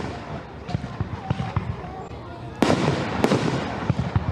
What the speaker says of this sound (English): we're live with some fireworks in Milwaukee